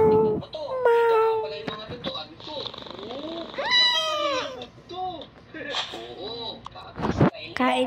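A pet cat meows several times in a home, short rising and falling cries at close range amid people talking, with a person also imitating the meow.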